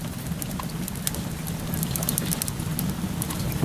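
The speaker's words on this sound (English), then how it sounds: "It's raining, as y'all can see." Rain falls steadily at an outdoor barbecue, a dense hiss with scattered sharp drop pattering that grows a little louder toward the end, close and without voices.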